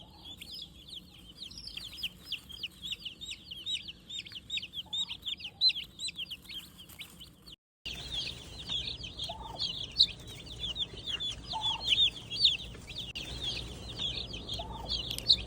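Chicks raised as meat birds peep and chirp steadily in a rapid, high-pitched chorus throughout, with brief soft thumps beneath and a short pause midway.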